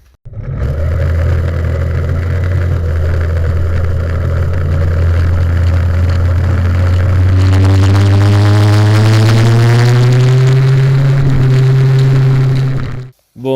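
An MBK 51 moped with an Airsal T4 kit and variator runs loud and close, holding a steady drone before revving up and rising in pitch as the clutch engages, then pulling on at high revs until it cuts off.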